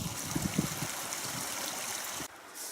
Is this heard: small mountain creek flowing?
yes